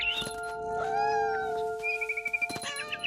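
A cat meows in the video game Remains of Edith Finch, a drawn-out wavering meow followed by a few shorter calls and brief bird-like chirps, close and clear over a quiet ambient bed.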